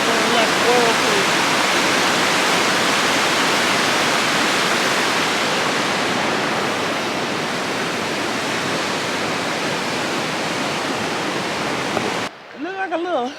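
Rough river rapids with swirling water rushing in a loud, dense, continuous roar that stays steady for most of the stretch before cutting off abruptly near the end, with a short quieter rush after.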